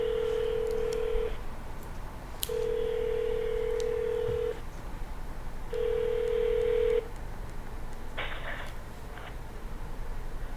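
A phone dialing to call back: three long steady beeping tones with short gaps between them, then a brief burst of touch-tone dialing, clear and close over faint background hiss.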